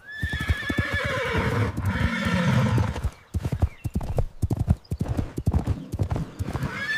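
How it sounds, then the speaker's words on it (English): A horse gives a loud, drawn-out whinny, then its hooves clip-clop in a quick, uneven rhythm close by, with no talking. "It's a horse."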